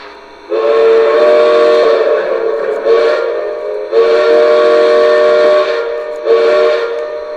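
A Lionel Legacy Union Pacific 4-12-2 #9000 model train's loud, low, breathy steam whistle gives a long blast and a short one, then repeats the pattern, nearby with nothing else heard.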